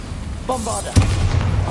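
A Bombarda blast spell in Hogwarts Legacy bursts into a single booming explosion, followed by a rumbling low tail that fades out, with a brief spoken voice just before the hit.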